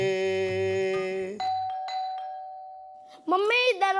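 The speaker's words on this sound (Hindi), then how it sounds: "तो पापा तब तक डोरबेल बजाने वाला चला ले जाएगा।" A doorbell rings with a bright electronic ding-dong chime, a sustained tone that fades out before a voice speaks over a musical tone near the end.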